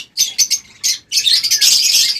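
Small pet birds in a crowded market stall chirp in quick, overlapping bursts of bright high tweets, close and steady, with one short pause before the chorus resumes.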